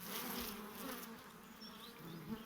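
Honeybees swarm around an opened hive during a beekeeping inspection, a dense, steady buzzing of many bees close by, continuous throughout with no talk.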